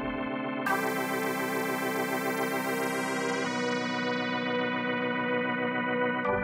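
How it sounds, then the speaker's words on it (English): One long sustained synth note played with an organ sound in a beat hangs steadily for several seconds, bright and buzzy with rich overtones, with a brief break partway through. "But see, now you play it with the organ and it sounds like this."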